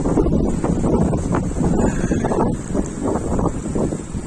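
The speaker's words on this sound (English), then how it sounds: "We'll get to some less windy locale" Strong wind buffets the microphone outdoors beside a large physics building, with a constant low rumble and gusty roar throughout and no voices over it.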